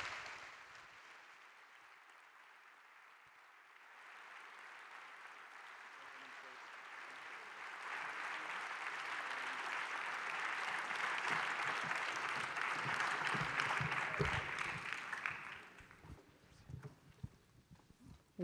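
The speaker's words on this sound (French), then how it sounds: "Je vous prie de bien vouloir les applaudir une fois que vous avez mis vos casques." An audience applauds at a public talk, a dense wash of clapping that swells gradually over many seconds to a full sustained peak, then thins and dies away near the end, heard from within the hall.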